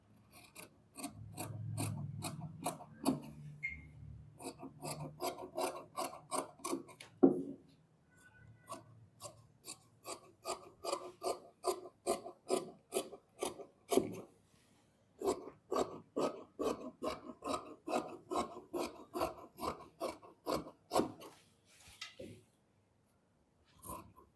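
Scissors cutting kurta fabric, a long run of regular crisp snips in quick rhythmic bursts, close and clear, with a couple of short pauses between runs and a soft rustle of cloth at the start.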